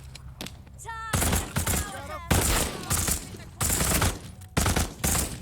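Myers rifle firing in the Walking Dead Saints and Sinners video game: loud, close bursts of repeated shots in several clusters, with short vocal cries between them.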